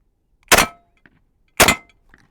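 Two loud, sharp reports from a Chinese SKS firing Chinese 7.62x39 tracer rounds at steel targets, spaced about a second apart, each a crisp crack that dies away quickly, with only faint sounds in between.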